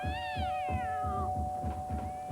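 A cat lets out a long, wavering howl that slides downward in pitch, over a steady hum and faint rhythmic background noise.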